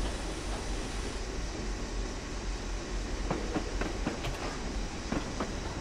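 A 14xx steam locomotive runs on the GNoSR lines in the game Train Simulator. The engine rumbles steadily and fairly quietly, with a series of faint rhythmic rail clicks toward the end and no speech.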